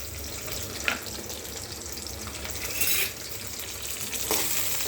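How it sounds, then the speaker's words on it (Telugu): Onion pieces sizzle steadily in hot oil in a pan, with a continuous hiss and a few brief scraping stirs, close and fairly quiet, with no talking. "ఈ ఆనియన్స్ ముక్కల్ని ఆయిల్లో వేయాలండి."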